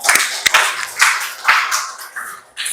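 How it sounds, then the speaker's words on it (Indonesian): Applause from a junior high school class, with scattered, irregular hand claps swelling and fading in bursts over a few seconds. "Beri tepuk tangan untuk kelompok 3 ya."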